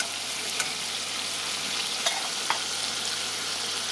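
Garlic fries in a pan with a steady sizzle and occasional stirring clicks, close and moderately loud, without any talking.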